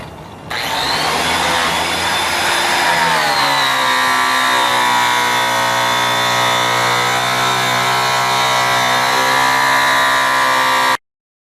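A spinning buffing wheel polishes an aluminum wheel with compound, a loud, steady motor whine that dips in pitch as pressure loads it, then holds a constant drone until it cuts off abruptly.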